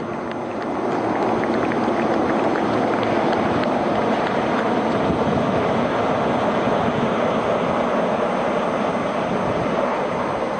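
Sea King military helicopters fly past in formation at a parliamentary display, a loud continuous roar of rotors and turbines that swells in and sustains throughout.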